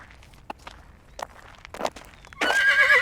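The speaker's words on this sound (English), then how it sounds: "don't mind the horses" Horses beside an Elven caravan take a few scattered, close hoof steps before one lets out a loud, drawn-out whinny at the end, with no talking over them.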